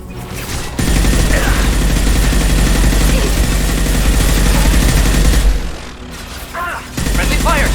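Sustained rapid gunfire fills a Mass Effect 2 firefight, loud and continuous with brief pauses, and game voices and mechanical clatter sit under the shooting.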